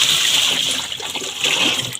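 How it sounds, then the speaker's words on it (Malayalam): Water is poured steadily while a container is rinsed, a continuous close splashing gush that lasts throughout with a bright hiss. "കഴുകിയെടുത്തോടെ വെള്ളം ഒഴിച്ചു"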